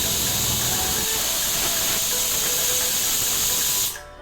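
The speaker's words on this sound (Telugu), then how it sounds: "వాటర్ యాడ్ చేసాక ఇప్పుడు మనం విజిల్ పెట్టుకోవాలి." A pressure cooker holding mutton curry lets out a loud, continuous hissing whistle of steam that holds steady for several seconds before fading out quickly at the end.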